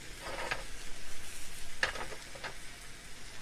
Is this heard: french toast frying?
yes